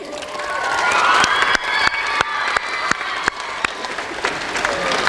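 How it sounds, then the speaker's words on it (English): A crowd at a parliamentary reception applauds the Silver Ferns netball team, a sustained wash of clapping with scattered sharp claps and faint cheers, fairly close and filling the room. "So I want a big round of applause for the Silver Ferns whānau."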